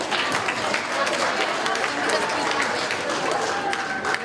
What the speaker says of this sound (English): But please give them a big round of applause.